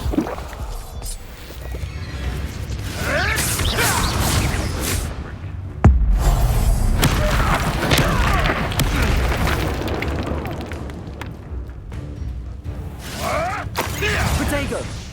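Spell blasts and explosions in the video game Hogwarts Legacy, booming bursts and magical whooshes firing repeatedly amid steady game sound, with a voice calling out spell names throughout.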